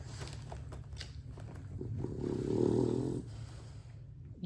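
Slow, rumbling snoring with a swelling, louder breath in the middle, close by against a low background hum.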